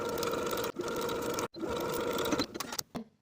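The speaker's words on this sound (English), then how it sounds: "Then we'll stitch those 2 layers of waistband together from one side to the other with a 5/8 inch" A sewing machine stitches two layers of a culotte waistband together, a close, even motorized whir that runs in bursts with short pauses, ending in a few stop-start runs.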